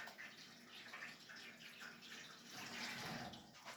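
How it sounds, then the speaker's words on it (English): Tap water runs steadily over stew meat strips being rinsed before cooking, a continuous close splashing hiss with no talk. "I'll wash it off first."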